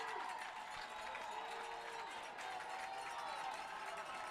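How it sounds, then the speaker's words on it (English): Distant crowd at a San Clemente versus Beaumont football game late in the fourth quarter: a faint, steady roar of many voices with no sharp peaks. "Crowd's getting into it."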